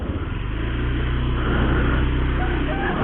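Motorcycle engine fitted with a Nemo Racing air filter runs steadily on a test ride, a continuous low, throaty drone with a slight rhythmic pulse, close and fairly loud, with no talk.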